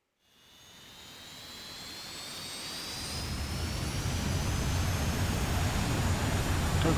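F-86 Sabre jet engine spooling up in the DCS World flight simulator: a rising turbine whine with high tonal sweeps, building steadily into a loud, sustained roar.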